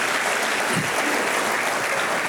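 A church congregation claps together in dense, steady applause, loud and continuous throughout, with a faint voice underneath.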